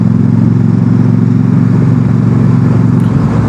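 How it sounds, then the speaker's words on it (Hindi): A group of motorcycles riding in a single lineup on a foggy early-morning expressway, their engines making a loud, continuous, close rumble that stays steady throughout. "सारी बाइकें चल रही हैं और सब लाइनअप पे हैं"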